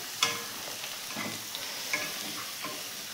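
Egg being stirred into fried carrots and capsicum in a pan gives a soft continuous sizzle, punctuated by a few light scrapes and taps of the spatula, close and moderately quiet.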